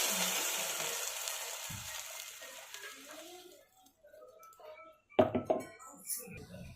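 Blended curd poured into a sizzling fenugreek-seed tempering: a loud hiss fades over a few seconds, followed by a sharp burst of sizzle and clatter near the end.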